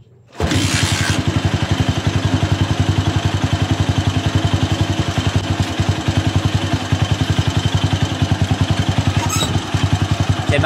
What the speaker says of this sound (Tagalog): Pandarin naman natin yung motor.